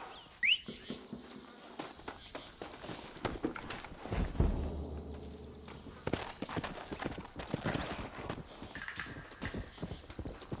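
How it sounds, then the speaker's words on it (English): Hooves clip-clop in a steady walking rhythm with scattered clatter and shuffling, fairly close, with a brief high whinny near the start, in the video game Red Dead Redemption. "Looks like Carlos left us some horses."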